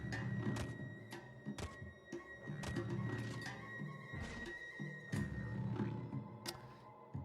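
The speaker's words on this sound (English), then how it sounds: "I reload my gun." A semi-automatic pistol is reloaded in the roguelike game Caves of Qud, heard as a series of clunky mechanical thunks and clicks over a steady low game ambience.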